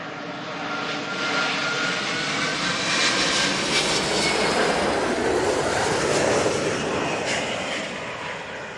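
A Virgin Atlantic airliner arriving from LAX at London Heathrow roars past, a broad jet engine rush that builds to a peak and then eases, with whistling tones and no talk.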